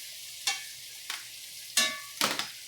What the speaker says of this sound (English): I'm going to lay in the chicken.